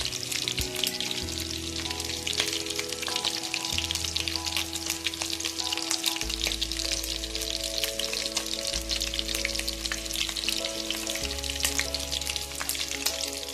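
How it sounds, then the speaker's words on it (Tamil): Chicken 65 frying in hot oil, a steady, loud, crackling sizzle with dense popping throughout and a low hum underneath, with no talk. "நல்லா ஃப்ரை ஆனதுக்கப்புறம் நம்ம திருப்பிக்கலாம்"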